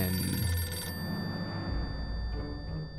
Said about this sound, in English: Okay, what was that phone ring?